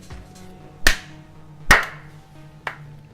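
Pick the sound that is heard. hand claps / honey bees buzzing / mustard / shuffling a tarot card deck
hand claps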